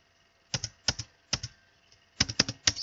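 Keys on a computer keyboard clatter in short bursts of two or three strokes with brief pauses between, close and fairly clear against a quiet background.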